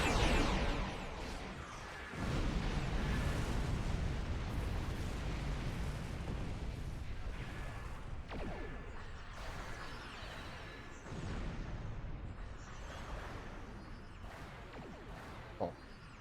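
Torpedo explosions sound in Star Trek Online, a space combat video game, as a sequence of booming bursts and whooshes. A loud hit opens the sequence and further blasts repeat over a rumbling background.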